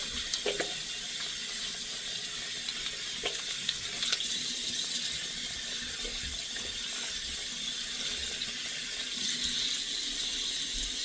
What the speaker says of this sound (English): So you want to go ahead and wash your hands very thoroughly.